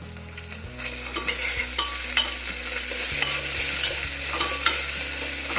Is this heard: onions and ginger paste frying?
yes